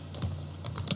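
Computer keyboard typing: a quick run of light, irregular key clicks at close range, fairly quiet, with no talking.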